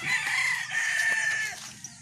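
A young gamecock, a stag, crows in one long, loud, close call that lasts about two seconds over faint farmyard background.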